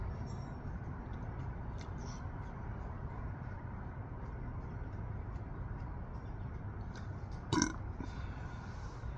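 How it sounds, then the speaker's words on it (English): A single short burp erupts near the end after eating a hot Purple Gator Jigsaw pepper, standing out briefly above a steady low rumbling background, no speech. "Pepper burps."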